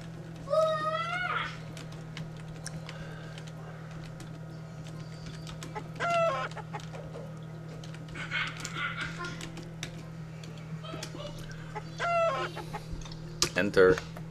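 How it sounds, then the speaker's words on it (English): Chickens cluck in short, scattered bursts in the game Tree of Life 2, set over a steady low hum, with brief tapping sounds in between. "How about this chicken?"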